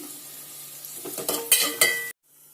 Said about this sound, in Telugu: పుదీనా కూడా వేసి ఇవన్నీ బాగా వేయించుకోవాలి